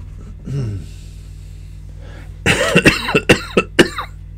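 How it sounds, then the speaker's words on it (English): A person with a bad cough coughs several times in quick succession, harsh and close, after a brief throat sound and quiet breathing. "I've got a terrible cough."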